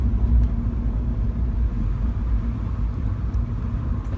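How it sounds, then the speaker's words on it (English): A Mini Cooper S (F56) drops back into second gear with rev matching, heard as steady engine and road rumble from inside the car with no sharp blip standing out. "Back into second, you can hear that downshift and the rev matching"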